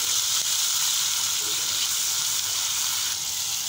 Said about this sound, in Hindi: अब हम इसमें डालेंगे 1/2 कप के करीब टोमेटो पेस्ट। फ्लेम को अभी हमने हाई रखा हुआ है।